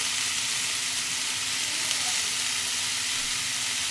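Mixed vegetables fry in a pan for a fish curry, giving a constant close crackling sizzle with little change, and faint stirring barely standing out from the hiss.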